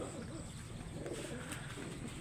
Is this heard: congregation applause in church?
no